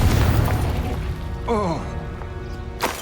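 A Confringo fire spell in the video game Hogwarts Legacy detonates with a deep, loud boom that rumbles and fades, followed by brief magical tonal swells and a short sharp burst near the end.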